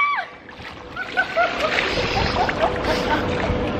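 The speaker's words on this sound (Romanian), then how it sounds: "Piscina!" Water splashes and laps in a small rooftop hotel pool on the 14th floor, a steady close wash of sloshing with faint chirping tones in the background.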